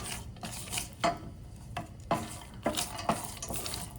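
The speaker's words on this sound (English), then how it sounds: "Give it a stir." Peanuts and mustard seeds are stirred in a pan of hot oil, giving a close low sizzle with repeated scraping and rattling strokes of a spoon against the metal, and no voices.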